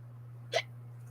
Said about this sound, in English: got a little bit of the hiccups right there.